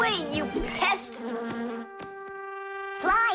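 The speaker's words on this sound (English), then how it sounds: "It's just a plain old bee!" A cartoon bee buzzes in a wavering, whining drone that rises and falls, close and fairly loud, with a few short clicks and sparkly effects mixed in.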